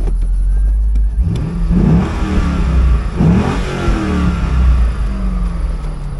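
A Corvette engine revs hard and close, its pitch climbing and falling in several strong pulls over a steady idle rumble, with no talking.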